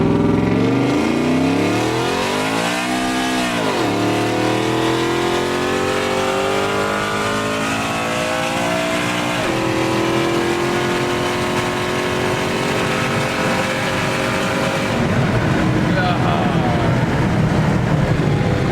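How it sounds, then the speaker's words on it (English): A supercharged 2015 Ford F150 pickup makes a quarter-mile acceleration run: the loud engine roars and climbs steadily in pitch, drops sharply at a gear shift, then pulls hard again. It continues without any talking until a final shift near the end. "we're gonna do a little 1/4 mile pull right quick"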